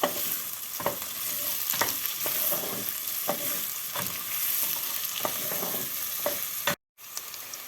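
Vegetables sizzle steadily in a hot pan while a utensil scrapes and stirs at a regular pace, close and continuous.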